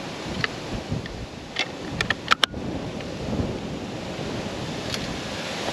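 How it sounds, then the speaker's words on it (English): Strong wind buffets the microphone with a low, constant roaring rumble, with a few sharp clicks and knocks in between. "it is windy out here"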